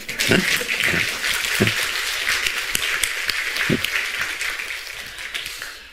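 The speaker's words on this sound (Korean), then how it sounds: "한번 일어나 박수 한번 받으라." Applause from a church congregation as a young woman stands to be recognised, a dense patter of clapping with a few louder individual claps, steady and fairly close throughout.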